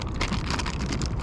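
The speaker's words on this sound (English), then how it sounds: "right now that rain is just cooling us off" A passing rain shower pattering steadily on the water and a kayak during a Florida fishing trip, a dense hiss of drops with light wind buffeting the microphone, close and continuous.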